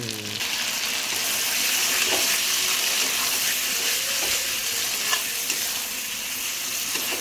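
Chicken korma with cashew paste fries in oil with a loud, continuous close-up sizzle and hiss, broken by a few faint stirring scrapes, and no one talking.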